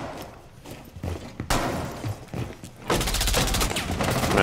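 Rapid bursts of automatic gunfire in Rainbow Six Siege on the Club House map, Team Deathmatch Secure Area mode: scattered shots early, then a loud, sustained volley over the last second and a half, close and punchy.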